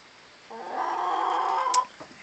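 A single drawn-out hen vocalization, a nasal cackling call lasting over a second, close by.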